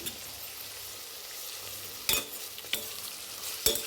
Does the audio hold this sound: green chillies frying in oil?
yes